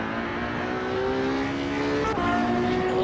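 A Ferrari 812 Superfast V12 howls in the Assetto Corsa racing game, a continuous high-pitched engine wail rising in pitch through the revs before a quick gear change and climbing again, loud and steady with no speech.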